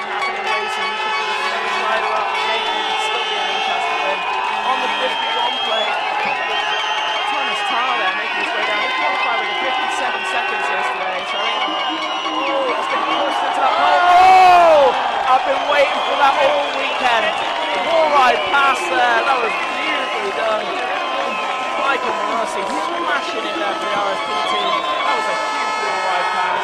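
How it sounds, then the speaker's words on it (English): Spectators cheer loudly and continuously at a Fourcross mountain bike race with a wooden section, the roar swelling midway, while a commentator talks over the noise throughout. "The crowd's going absolutely crackers for this as the riders drop into the wooden section."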